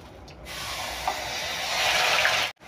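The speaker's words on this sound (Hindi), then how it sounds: "अब मैं 2 मिनट प्याज भून ली हूँ" Coarsely ground onion sizzling in a pan with panch phoron spices, a steady broad hiss that swells slightly louder toward the end before cutting off abruptly.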